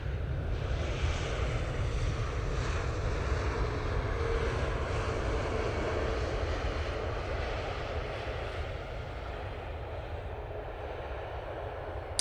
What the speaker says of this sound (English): we can see the Cathay Pacific A350-900 just passing the tower there